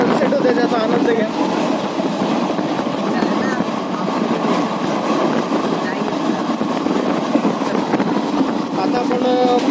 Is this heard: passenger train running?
yes